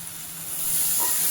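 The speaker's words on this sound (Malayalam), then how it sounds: "റൈസ് ഞാൻ കുക്കറിലേക്ക് വെച്ചു." A pressure cooker cooking rice lets out a steady hiss of steam that swells louder over about a second, close and alone without speech.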